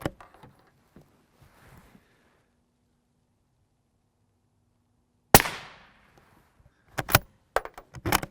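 Rifle shots at an NIJ III++/RF2 armor plate on a range: one sharp loud crack with a ringing decay midway, then several quick impacts close together near the end, with quiet stretches and faint handling noises between.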